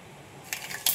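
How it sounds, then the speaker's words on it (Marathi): Mustard seeds spluttering in hot tempering oil for alu vadi, heard as a quiet bed of faint crackle that breaks into two short, sharp bursts of popping toward the end. "राय तडतडली"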